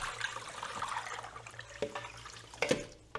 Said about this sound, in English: pour all the chilies with that really cold water right into this sink.